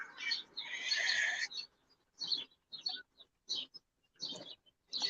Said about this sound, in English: Loving the birds fucking chirping over there.